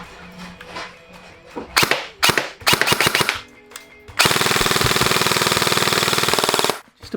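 An airsoft gun fitted with a red tracer unit fires close by, first in a few sharp single shots and short bursts, then one long rapid full-auto string of cracks lasting several seconds, with no talking.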